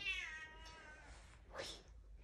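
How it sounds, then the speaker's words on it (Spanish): A house cat meows twice at close range in a quiet home bathroom, a longer drawn-out call followed by a shorter one, fairly soft with no talking. "Uy, el gato."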